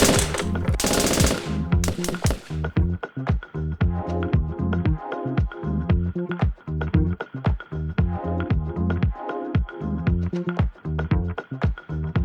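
Video game machine gun fire rattles in long, loud, rapid bursts with sharp single shots mixed in, dense and continuous throughout, with no speech.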